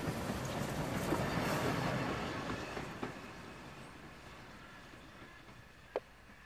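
A train in the Railworks simulator game rolls along with a low rumbling drone that swells and then gradually fades, with a couple of sharp clanks near the end.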